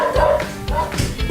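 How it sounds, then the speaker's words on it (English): A dog barks repeatedly nearby in a quick series of loud, rough woofs, with a voice partly overlapping the barking. "bloody dog"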